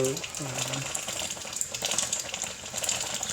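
Tap water running steadily into a container in a kitchen, a continuous close gushing splash, with a brief murmur of a voice at the start.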